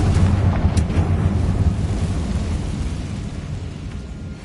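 A Confringo blasting spell explosion in Hogwarts Legacy, a deep rumbling boom that fades into a long, low, roaring decay with rubble-like texture, loud and close.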